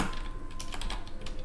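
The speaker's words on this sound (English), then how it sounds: "oh god, my typing is 10 out of 10" Rapid typing on a computer keyboard while entering login code in Unity, a close, continuous patter of uneven key clicks and taps.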